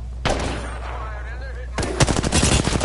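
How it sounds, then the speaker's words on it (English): Loud gunfire in a video game: a sharp shot, a short gap, then a quick string of rapid shots, with a player talking at moments. "Firing, fire."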